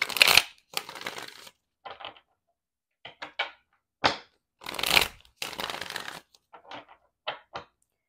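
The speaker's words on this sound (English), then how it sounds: "I just felt like a little shuffle was needed." Tarot cards being shuffled in several quick riffling bursts separated by short pauses, close and crisp, with no talking.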